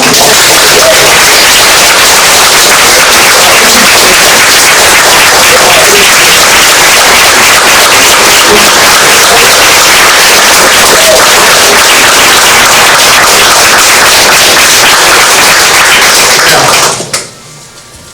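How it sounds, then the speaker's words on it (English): A large audience at a Head Start school event breaks into loud, dense, sustained applause that fills the space for about seventeen seconds before cutting off abruptly near the end. "you all are applauding them right now"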